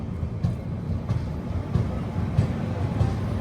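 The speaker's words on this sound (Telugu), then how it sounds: "ఒంగోలు నుంచి మన ట్రైన్ బయలుదేరింది." Pinakini Super Fast Express passenger train running, heard from on board as a steady low rumble with rhythmic wheel thumps over rail joints about every half second.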